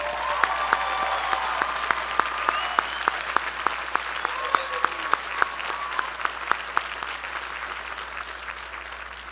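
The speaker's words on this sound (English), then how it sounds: "let's give them a big round of applause." A graduation crowd gives the volunteers a steady round of applause, the dense clapping sustained evenly throughout with a few sharper individual claps standing out.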